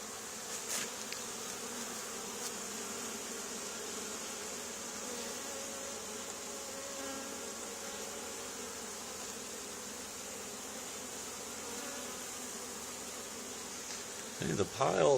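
A swarm of honey bees buzzes in an old barn during removal, a thick unbroken hum holding steady throughout, with a short knock and rustle at the very end.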